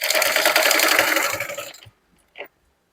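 A sewing machine stitches the sleeve of a suit, a loud steady whir that runs for nearly two seconds, then stops, followed by one brief knock.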